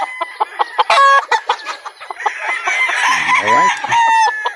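Chickens and roosters at a gamefowl farm cluck and crow repeatedly, with several loud crows up close, while a voice talks briefly at the start.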